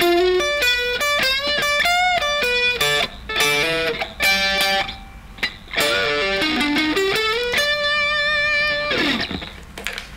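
An electric guitar plays a blues phrase with slides between notes, bright sustained tones gliding up and down, some held and some cut short, clean to lightly distorted, solo with no voice.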